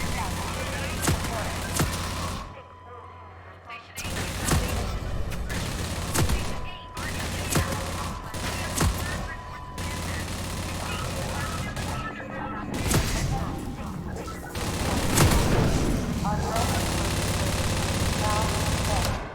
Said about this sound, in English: Gotta have a turret section.